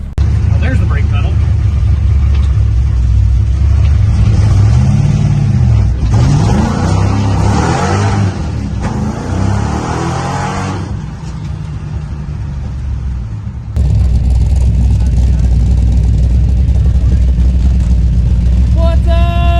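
Ford Merkur engine revving on a dyno, loud and close, with rising and falling rev sweeps under a steady engine roar, then a sharp jump in level partway through.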